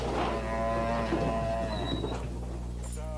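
Pantanal cattle in a large herd low repeatedly with drawn-out moos, one call overlapping the next against a steady background, with a fresh moo starting near the end.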